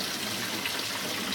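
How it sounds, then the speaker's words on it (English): Water gushes at full flow through the inlet valve of a Fisher & Paykel GW612 washing machine, a steady close hiss with no talk over it. "And now we've got a full water flow through there."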